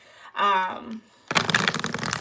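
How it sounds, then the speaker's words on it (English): Tarot cards riffle-shuffled close up, a rapid burst of crisp flutters and slaps after a brief spoken word, loud and near. "Excuse me if this shuffling is a bit loud in your ear."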